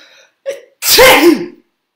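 A storyteller's voice imitates a fish sneezing, with a brief gasping build-up and then one loud, breathy sneeze burst, close and alone.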